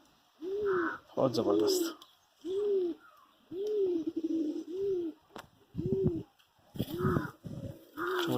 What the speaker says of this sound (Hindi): चौड़े पंखों का कबूतर है,